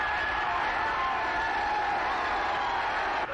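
Crowd at a 1929 boxing match cheering wildly as a fighter climbs into the ring, a dense, loud, continuous roar that holds steady throughout on an old film soundtrack.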